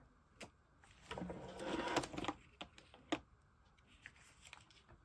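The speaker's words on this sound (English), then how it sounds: "Just layering one on top of each other and then driving through the sewing machine" A sewing machine stitching through layered strips of paper: short bursts of rapid mechanical clatter, quiet and close, broken by soft rustles and taps of paper being handled.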